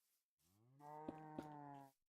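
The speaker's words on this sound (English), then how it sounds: "Moo guy's mooing." A cow in the video game Minecraft lets out one long, steady, low moo that swells and holds before cutting off, heard on its own and fairly quiet.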